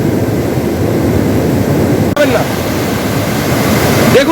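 Rushing water rising at Murguma in Purulia, a steady broad roar that fills the scene, loud and continuous, with faint voices underneath.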